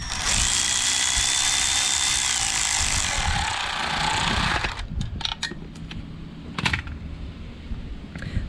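Supercharger bolts on a 6R80-swapped 3V Mustang GT being tightened with a 1/4 inch socket and Torx bit, with a long continuous whirring run followed by short clicks and ratcheting taps.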